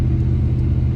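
Pickup truck exhaust with stock Razzies and a Flowmaster Super 10 muffler, a loud, steady, deep rumble held close throughout with no break.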